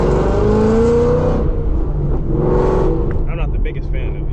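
Loud Whipple-supercharged Ford Mustang engine driving through town, a strong steady drone with rising revs and a whining pitch that climbs, dips, then climbs again, continuous throughout.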